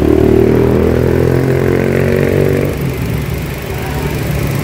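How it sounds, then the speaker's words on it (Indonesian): A Nissan Grand Livina engine running steadily at idle, a low droning hum with a slight drop in pitch partway through, close by with no talking. "Dan ini untuk suara mobilnya, suara mesin"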